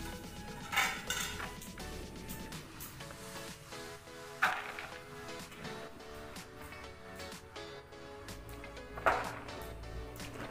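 Steamed soybeans for tempeh are stirred to cool in a metal pot, quiet scraping and shuffling with three sharp clinks of utensil against the pot at intervals.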